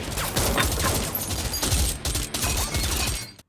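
Rapid bursts of gunfire in a film shootout between masked robbers and police, loud and close, with dense overlapping shots and crackling impacts throughout before a sudden cutoff at the end.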